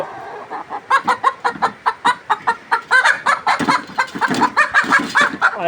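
A flock of layer hens about 123 days old clucks continuously nearby, many short overlapping clucks in a busy, rapid rhythm with no talking.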